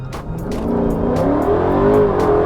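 Dodge Charger fitted with an Edelbrock Victor II intake manifold accelerating hard, its engine note climbing steadily in pitch and staying loud and close, with a hint of tire noise as the revs rise.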